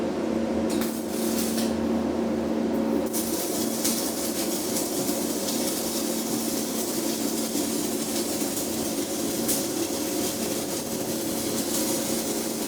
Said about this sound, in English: Okay, then we will start the welding.